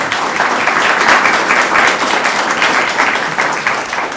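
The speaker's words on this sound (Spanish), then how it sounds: "un aplauso también para todos" A studio audience applauds at a television season launch event, loud, continuous clapping that stays dense and even throughout.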